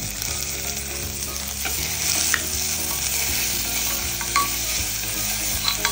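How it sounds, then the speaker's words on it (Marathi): Ground paste of chili, ginger, garlic and cumin sizzles loudly in a hot pan, a steady bright frying hiss with occasional scraping stirs, close and without talk. "आता वाटलेला मसाला मी घालते, जो मगाशी मी दाखवला।"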